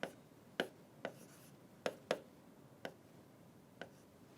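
A pen or marker taps and scratches on a board or paper while working out a definite integration problem, leaving seven short, sharp, irregularly spaced strokes that sound quiet and close, with no talk.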